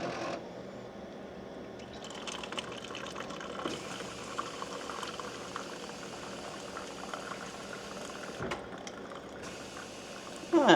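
Hot water pours into a styrofoam cup in a quiet room, a continuous soft bubbling, gurgling stream lasting several seconds with a short break near the end.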